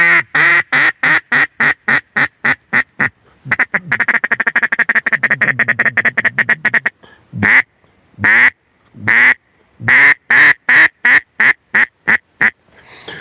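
A hand-blown duck call from a hunter's lanyard, softer and lower in tone than a Duck Commander call, sounds loud, close quacking sequences: evenly spaced single quacks, a fast rolling chatter, then spaced quacks again.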